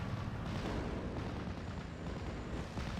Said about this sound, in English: Wildcat going to be coming in with the bombs first.